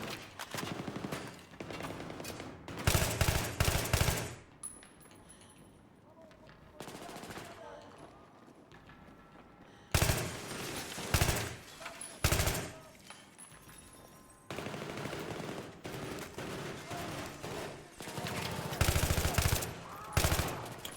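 Battlefield 3 video game combat with repeated bursts of loud automatic gunfire, rapid clusters of shots separated by quieter gaps across the stretch, and no talk over them.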